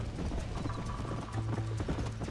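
A horse gallops in the video game Red Dead Redemption, its hooves clopping rapidly and steadily over a dense, continuous background of game sound.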